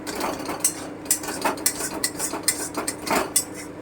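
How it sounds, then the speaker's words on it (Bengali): A spoon stirring mashed raw green banana with amchur powder in a dish, giving repeated close metallic scrapes and clinks against the bowl in an irregular rhythm, with no talking. "আর একটু নেড়ে নেব আমচুরটা যাতে খুব ভালো মতো মিশে যায় এর সাথে"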